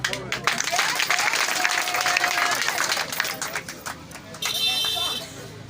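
Applause for the communal coordinator of the women's league at the installation of the AFDC communal committee of Nganza, Kasaï Central; a crowd claps steadily and cheers, with a voice and a brief buzzing tone in the mix.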